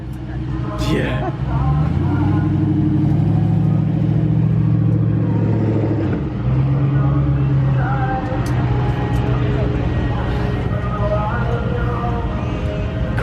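A fast car accelerates hard at a Houston street car takeover, its engine roaring loud and close with rising revs and shifts, while people talk over the noise.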